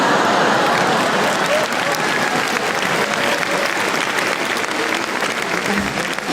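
A stand-up comedy audience breaks into dense, sustained applause, loud and close throughout, with a little crowd murmur mixed into the clapping.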